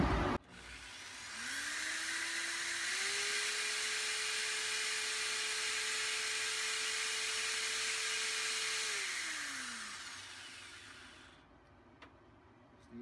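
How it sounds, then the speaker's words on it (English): A steady motorized whine runs for about nine seconds, rising in pitch at the start and winding down at the end, loud and close with no talking. "Turn on the drill."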